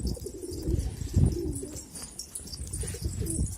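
Pigeons coo repeatedly inside a newly lit loft, their low throaty calls rising and falling in overlapping bursts close by, with some rustling beneath.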